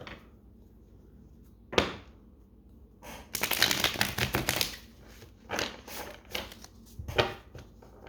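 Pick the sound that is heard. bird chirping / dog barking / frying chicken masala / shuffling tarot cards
shuffling tarot cards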